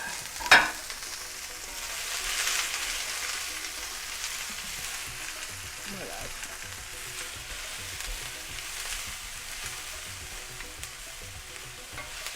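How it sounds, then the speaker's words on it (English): Peppers and onions sautéing in a very hot pan: a steady, even sizzle right after a sharp clatter as they hit the pan, with occasional faint stirring, moderately loud and close, no voices. "I have my pan up really hot. I want to throw my peppers and onions in first because they take the longest to cook."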